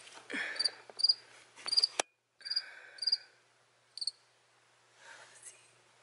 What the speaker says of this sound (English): Okay guys, I found the cricket.